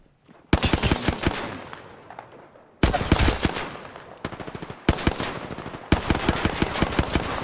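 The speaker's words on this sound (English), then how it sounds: "Listen up, I'm getting shot at." Heavy gunfire in the video game Apex Legends comes in four loud bursts of rapid automatic shots, each ripping attack fading into a brief gap before the next volley.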